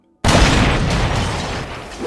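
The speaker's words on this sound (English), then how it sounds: "that explosion actually happened, and we'll definitely see that Spongebob is literally just atomized by that bomb" A cartoon bomb strapped to a character's chest in a SpongeBob episode goes off with a sudden, loud boom after a moment of silence, followed by a long roaring rumble that slowly fades.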